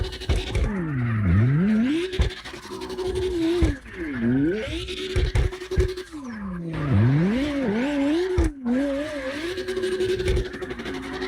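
A Lexus LFA drifting in CarX Drift Racing Online: a loud, steady engine drone with repeated swooping tire squeals that rise and fall as the car slides, continuous with no talking.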